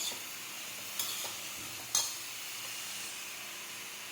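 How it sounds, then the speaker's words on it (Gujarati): Cabbage and potato with turmeric sizzle in a hot pan, a steady close hiss marked by two or three brief spoon scrapes as the vegetables are mixed, with no voices. "હવે તેમાં કોબી બટેકા નાખી દઈશું। હવે તેને મિક્સ કરી લઈશું।"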